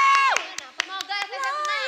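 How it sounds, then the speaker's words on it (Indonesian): Several sharp handclaps from an audience snap through close, tonal voice sounds during a live-streamed chat, irregular and brief. "Tepuk tangan semuanya."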